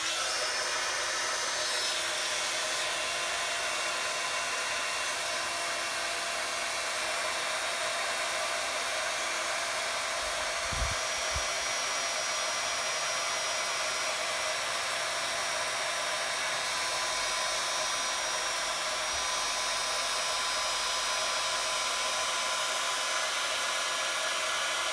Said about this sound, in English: And then I'm going to heat set that now.